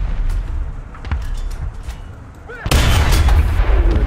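T-44 tank main cannon firing in War Thunder ground realistic battle, a heavy boom with a sharp crack breaking over a rumbling engine and scattered battlefield shots, the blast leaving a loud sustained roar.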